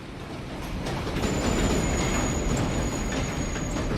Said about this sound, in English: Oh look, here comes a train.